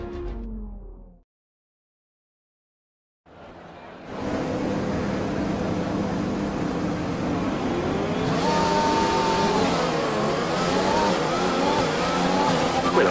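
Engine of a Formula 1 car in an F1 video game, revving at the race start: after a brief silence a steady, loud engine drone with tonal lines builds in and climbs higher toward the end.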